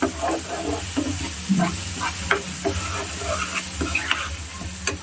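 Pepper chicken cooking over a medium flame, with steady close sizzling and frying and repeated stirring and scraping strokes that run throughout without a break.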